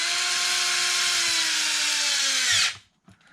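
A power drill whines at high speed, driving longer bolts into the front plate of an Arrma Limitless 8S RC car, the tone sagging slightly as it loads up before cutting off abruptly, followed by a faint clink.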